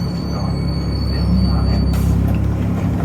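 An Ottawa O-Train light rail train running into Tunney's Pasture terminus, a loud steady rumble of wheels on track with a persistent high metallic squeal from curving wheels, heard from on board.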